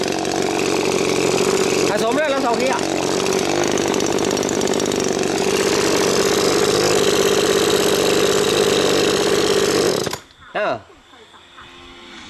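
Small two-stroke engine of mixed Japanese and Chinese parts runs loud and steady at high revs, buzzing like a chainsaw, before cutting off near the end. Brief speech is heard over it.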